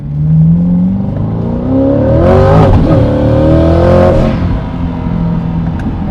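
A 900-horsepower twin-turbo C8 Corvette accelerates hard on a street, its engine roaring loud and close with rising, shifting revs and turbo whoosh across several seconds.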